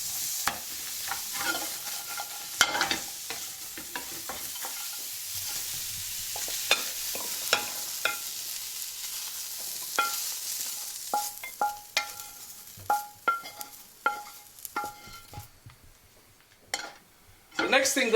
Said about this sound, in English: by roasting this stuff, you literally want it in there for a couple of minutes